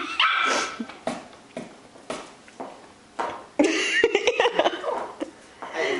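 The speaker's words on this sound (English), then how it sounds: "Oh, this one just barks." A puppy gives a string of sharp barks and yips that come close and loud in irregular bursts, with some whimpering and a bit of laughter mixed in.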